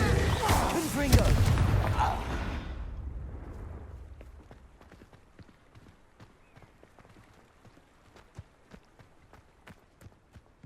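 Confringo explosive spell blast in the video game Hogwarts Legacy, a loud roaring burst that swells for a couple of seconds and then fades, followed by quiet scattered footsteps and clicks.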